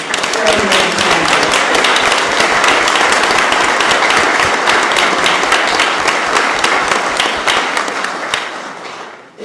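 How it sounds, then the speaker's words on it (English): Applause from the audience at a public meeting, a dense, loud burst of many hands clapping that holds steady for several seconds before quickly fading out. "I'd like you all to give a small hand to Jeff."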